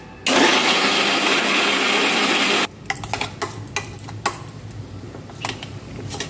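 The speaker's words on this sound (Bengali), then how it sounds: "এটা আমি মিক্সি দিয়ে পেস্ট করে নিচ্ছি" An electric mixer grinder whirs loudly for about two seconds while blending fried spices with a little water into paste, then cuts off, leaving clattering and rattling handling sounds.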